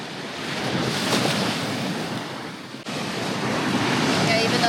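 Surf washing in steadily at a beach where the tide runs very low, with gusts of wind buffeting the microphone, a constant loud roar of waves and spray, no voices.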